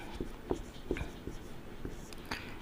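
Pen scratching on paper while a maths exercise is worked out, a run of short, quiet strokes spread across the clip with faint room noise and no speech.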